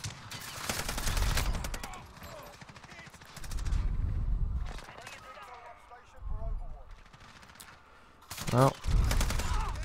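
Rapid bursts of automatic fire from the FiNN light machine gun in Modern Warfare, a cranked match on the Shipment map, coming in several loud clusters separated by short pauses, with someone talking briefly in between.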